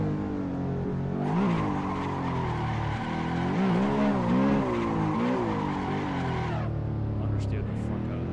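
Race car in the Assetto Corsa driving game sliding into a long tire squeal that wavers and swoops for several seconds over a steady engine drone, loud and close, then cutting off abruptly.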